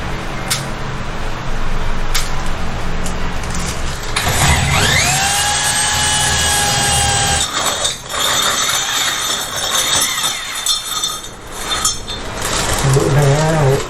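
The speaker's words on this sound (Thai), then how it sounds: "ก็เจาะทะลุออกไปข้างนอกแล้วนะคะ" A power drill bores through hard ready-mixed concrete wall to install a Haier Inverter air conditioner, a loud grinding whine that rises in pitch, cuts out, then resumes with rattling and clinking in a room.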